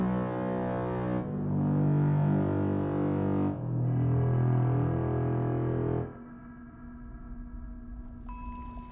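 Three long, buzzy synthesized puzzle tones from the video game Hostil, each held a couple of seconds in sequence, followed by a softer, thinner sustained tone.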